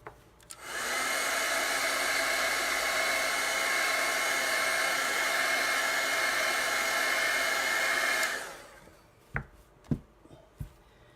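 A hair dryer blows steadily for about eight seconds, drying chalk paste on a stencil, then cuts off, followed by a few soft taps and handling knocks.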